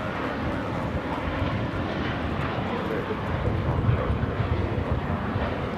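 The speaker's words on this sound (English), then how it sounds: "This is JetBlue, flight 100, taking off to Fort Lauderdale on an A321." A JetBlue Airbus A321 takes off at LAX, a steady, loud jet engine roar holding throughout with a broad low rumble and faint hiss, no pauses.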